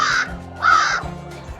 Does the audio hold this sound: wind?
no